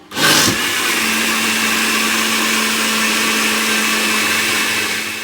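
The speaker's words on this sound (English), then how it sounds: "I've added like a can of coconut milk to the first batch, and a little amount of water, and I'm blending it now." A blender blending a can of coconut milk with a little water starts up and runs loudly and steadily, a continuous motor whir with a churning liquid edge, close by.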